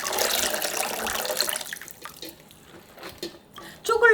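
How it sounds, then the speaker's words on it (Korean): Salty brine drains from salted napa cabbage into a colander, a steady splashing pour that fades after about a second and a half, leaving faint trickles and drips before a louder splash at the end. "그럼 일단 씻어야 되니까 소금물을 뺄게요."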